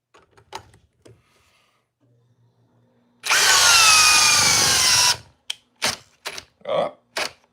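A power driver strains loudly for about two seconds on a 6 inch timber lock screw in wood. Scattered knocks and handling clicks come before and after the burst.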